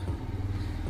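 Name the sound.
noise from inside an old motorcycle engine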